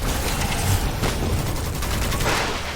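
Weapon fire from an elixir in the dark fantasy shooter Witchfire, heard as a loud, continuous wash of blasts and rumble that stays dense and sustained throughout, with no voices over it.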